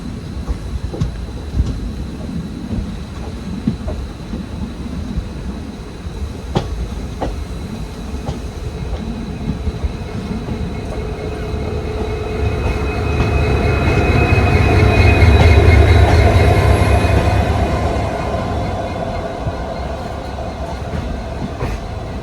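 A monsoon train bound for Talguppa runs steadily on its rails, wheels clattering as the rumble slowly builds to a loud peak and then eases back.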